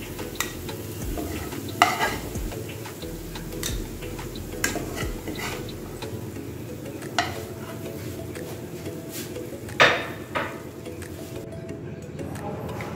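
Cooked fenugreek seed vegetable being scooped out of a pan, with scattered scrapes and clinks of a spoon against metal over a low background hum and faint sizzle, close and without talk.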